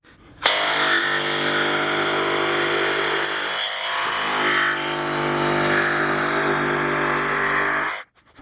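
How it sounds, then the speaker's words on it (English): A power saw cutting the corners off wooden boards for a Viking camping chair, running as a loud, steady whine that starts abruptly, dips briefly midway as it bites into the wood, then stops sharply. "I'm going to go ahead and cut these corners off of both of these boards on one end."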